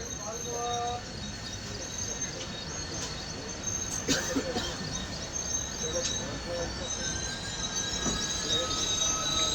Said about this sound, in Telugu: మన ట్రైన్ అయితే చాలా స్లోగా వెళ్తుంది